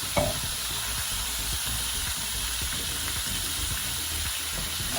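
Ground meat for lasagna sizzles and frys in a pot while a spoon stirs and breaks it up, a steady close frying hiss with repeated soft scraping strokes throughout.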